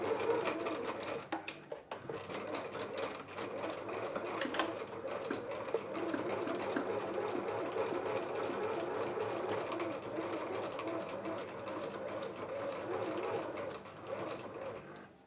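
A Heritage Mini sewing machine runs steadily at close range, its rapid mechanical whirr and clatter continuing without a break for the whole stretch.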